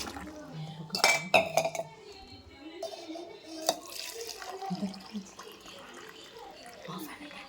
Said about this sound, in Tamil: பீட்ரூட் ஜூஸை நம்ம இப்போ பாட்டிலில் ஊற்றுறோம்.